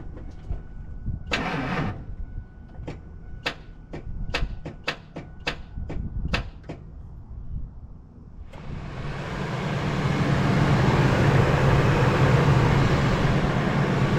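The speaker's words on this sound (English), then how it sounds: "Well, sometimes your farm truck doesn't start. Sometimes it does" An old farm truck that has sat unused for a long time, with corroded battery cables, clicks through a series of sharp starting attempts before the engine catches and roars into a loud, steady run.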